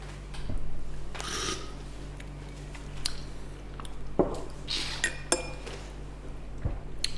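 Glassware and dishes clink and knock while someone gets a glass of water indoors, with scattered light chinks, taps and a few louder clatters over a quiet background hum.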